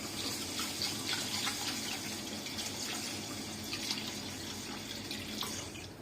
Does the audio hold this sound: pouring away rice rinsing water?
yes